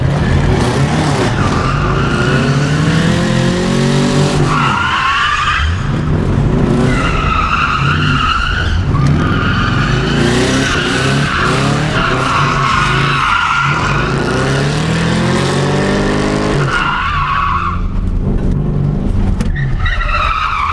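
A Chevrolet Camaro with automatic transmission drifts with the handbrake, its tires squealing in long, loud, wavering screeches over engine roar. Several skids rise and fall across the run, with brief pauses between passes.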